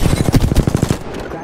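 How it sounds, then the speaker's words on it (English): Rapid automatic gunfire in the Apex Legends battle royale game, a loud, close burst of evenly spaced shots for about a second that then tails off. "Getting shot at."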